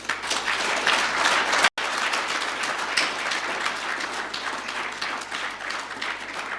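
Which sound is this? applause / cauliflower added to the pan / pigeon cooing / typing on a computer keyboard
applause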